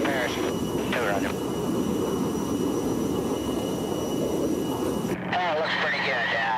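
Fighter jets make a pass over Vietnam under a forward air controller's watch, their roaring engine noise steady and loud throughout, with a radio voice talking over the roar.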